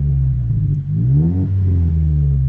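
A Renault Clio 1.2 fitted with a Hornet backbox exhaust revs up close by, its deep, grumbling drone swelling briefly and then settling back to a steady rumble, with no voices.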